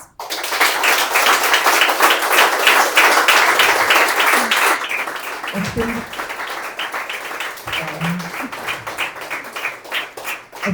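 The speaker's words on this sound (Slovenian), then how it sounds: "Hvala in velik aplavz." Audience at a live storytelling and music event applauding a singer, loud dense clapping at first that thins into scattered, more distinct claps, with someone speaking over it in the latter half.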